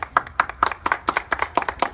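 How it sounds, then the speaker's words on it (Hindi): A small group at a village gathering in Azamgarh, Uttar Pradesh claps together in a quick, uneven rhythm of about a dozen sharp, close hand claps with no talking. "एक जोरदार ताली इनके लिए"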